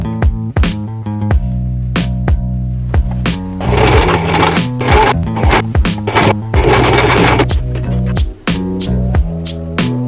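A sewing machine stitches a seam on a fabric face mask, loud and close, with a rapid mechanical rattle in bursts, sharp clicks between runs and a steady motor hum underneath.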